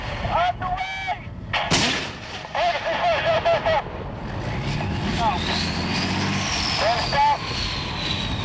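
A tank cannon fires with a heavy booming blast, the big gun sounding in the middle of a crew's shouted commands over a steady engine rumble, with a long rolling echo afterward.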